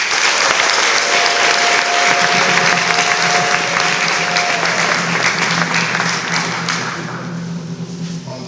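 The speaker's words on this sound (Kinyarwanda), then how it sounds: "Mumuhe amashyi Yesu." A church congregation gives loud, sustained applause during a worship service, dense clapping that continues steadily and then tapers off near the end.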